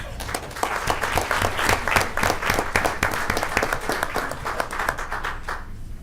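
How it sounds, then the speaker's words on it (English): Audience applause for students at a school board meeting fills the room, a steady dense patter of many hands clapping that holds throughout and fades slightly at the very end. "Can we give them a round of applause?"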